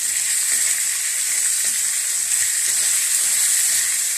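Onion and garlic sauté in a pan for a chana dal chutney, a steady, close sizzling hiss that runs unbroken with faint stirring clicks and no voices.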